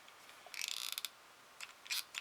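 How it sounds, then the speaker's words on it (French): A hot glue gun that won't feed its glue stick makes a quick burst of rapid mechanical clicks, then a few more clicks after a short pause. The sound is close and quiet. "c'est embêtant ce truc là de pistolet à colle. Parce qu'il veut pas descendre"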